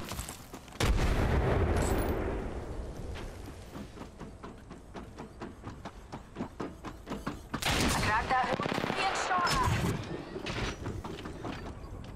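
Gunfire in the Apex Legends video game: sharp shots and rapid bursts, loud at the start and again later, with in-game voices talking over the shooting.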